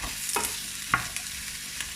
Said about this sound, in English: Like stir frying until we've softened up the onions a bit.